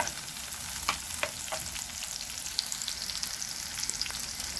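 Already fried potatoes stir-fried in ghee, a continuous close sizzle and crackle with faint scraping as the pieces are stirred around the pan.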